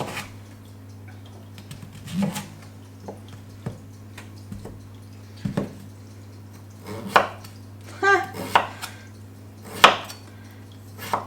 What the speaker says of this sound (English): So I'm just going to cut these up, and I'm going to peel them as well.